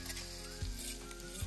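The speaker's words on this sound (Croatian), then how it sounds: "Prvo ćemo ispeći kobasice." Sausages fry in a pan with a quiet, steady sizzle, close and faint, interrupted by a couple of brief clunks of handling.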